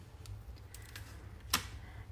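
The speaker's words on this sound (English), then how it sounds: "Today I'm just using my scissors to trim this one." Scissors snip through a paper banner for a Tropical Oasis card, giving a few faint, quick crisp cuts with one sharper snip near the end over a quiet low hum.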